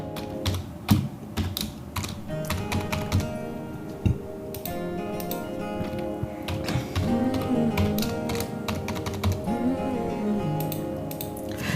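Someone types a new password on a computer keyboard, a close stream of quick, uneven key clicks in short bursts, with a soft hum underneath and no talking.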